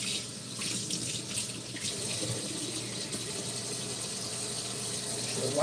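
Running tap water splashes steadily into a sink while hands are washed beneath it, a continuous close hiss and patter with no talk over it.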